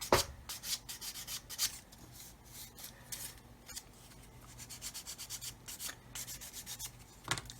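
Sandpaper rubbing through masking tape on a plastic 1/32 Kitty Hawk OV-10A/C Bronco model kit, close and fairly quiet, in short repeated scratchy strokes with brief pauses between passes.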